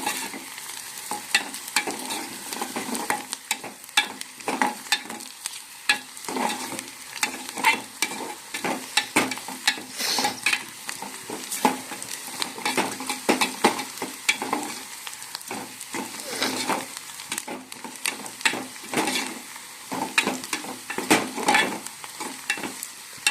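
Onions frying and being stirred in a pan, a steady crackling sizzle with frequent scraping and stirring strokes throughout, fairly close and with no voices.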